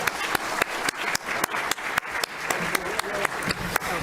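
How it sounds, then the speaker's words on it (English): An audience applauds panelists at the close of a public panel discussion, with steady clapping and sharp individual claps standing out over a murmur of talk. "Please join me in giving our panelists a round of applause."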